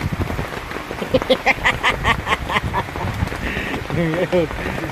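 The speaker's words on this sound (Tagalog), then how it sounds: "Yan, malakas lang ang ulan dito guys." Heavy rain in Santa Cruz, Laguna makes a constant rushing hiss in the background while people talk over it throughout.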